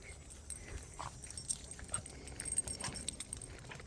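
Excited dogs make faint whimpers and shuffling noises close by as they wait to go out for an afternoon walk. A light jingle like keys mixes with the soft, uneven sounds.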